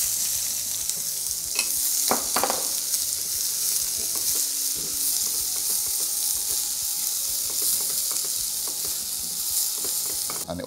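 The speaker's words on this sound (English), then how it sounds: "let your onions saute a little bit before you add your ginger and your garlic" Onions sautéing in hot oil in a pot, a loud, dense, continuous sizzle up close with a few clicks and scrapes of stirring along the way.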